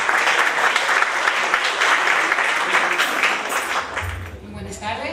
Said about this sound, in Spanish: Pongamos atención y recibamos un fuerte aplauso.